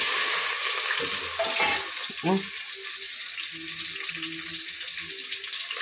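Mustard seeds, cumin, urad dal and chana dal frying in hot oil, a steady close sizzle with brief stirring clatter near the start and soft pops throughout.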